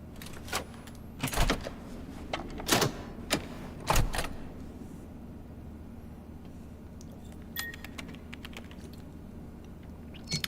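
Keyboard typing in the FNAF Secret of the Mimic video game, short bursts of clicky keystrokes at an upgrade station, spaced out in clusters over a quiet hum.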